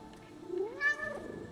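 A cat meows once in the video game No Rest for the Wicked, a rising and falling mew heard close and clear over a quiet ambient background.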